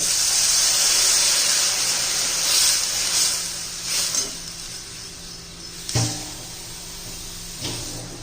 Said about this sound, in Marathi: आता पाणी घालायचे